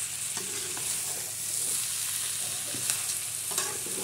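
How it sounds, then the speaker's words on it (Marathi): Potato chutney being stirred as it fries in a pan, a steady close sizzle with soft scraping stir strokes and no talking. "मस्त अशी हलवून घ्यायची."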